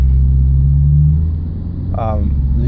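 A 2000 Subaru Legacy engine with low power idles and revs weakly at half throttle with a low, rough rumble. A voice briefly speaks over it.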